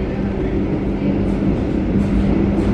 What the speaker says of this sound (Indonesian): Argo anggrek melesat dengan cepat di Cikaum.